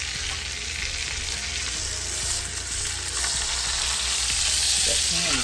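Beef pot roast searing in a deep pan on a stovetop, giving a steady, loud sizzle and frying hiss with occasional pops and crackles, with no one talking.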